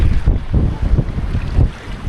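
Strong wind buffeting a small boat at sea, a loud continuous roar of gusts battering the microphone with rumbling low surges and the wash of waves, no voices.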